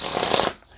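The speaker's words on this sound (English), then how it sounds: "the spectator can shuffle and cut the cards to his" A deck of playing cards being shuffled by hand, a dense, fast riffling flutter for about half a second, close and fairly loud, then a quick fade to quiet.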